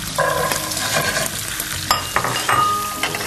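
Carrot and onion are sautéing in a little oil, with a steady close sizzle and occasional stirring scrapes and clinks of a utensil in the pan.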